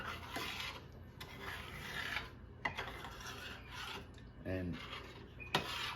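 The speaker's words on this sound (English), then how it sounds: "And now we just want to stir." A spoon scrapes and rasps against a pan while sausage gravy simmers at a very low boil, in slow, repeated stirring strokes heard up close. A voice briefly speaks at the start.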